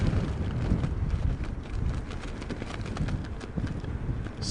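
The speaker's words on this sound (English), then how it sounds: "Percy, wind's picking up." Strong wind gusting at Heathrow Airport during Storm Darra, a steady loud roar with buffeting rumble against the microphone and no clear pauses.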